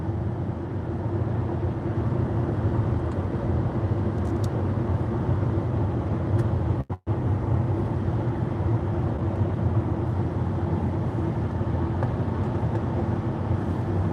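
A Kia PV5 cargo van with a stripped-down, unsoundproofed rear rumbles steadily while driving, a constant low road and cabin drone with one brief dropout midway.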